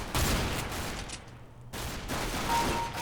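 Bursts of rifle gunfire in CS:GO Guardian co-op mode, dense rapid shots with a short lull in the middle before firing resumes, fairly loud and close.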